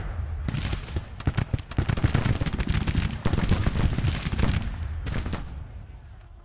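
Volleys of musket fire from a Civil War strategy game, dense crackling shots in rapid, overlapping bursts that rise and fall across the whole stretch, with a voice talking underneath.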